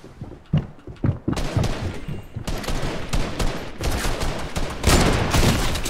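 Rapid bursts of gunfire in Fortnite, loud and close, with heavy sniper-style shots among dense volleys of cracks and thuds that run almost nonstop.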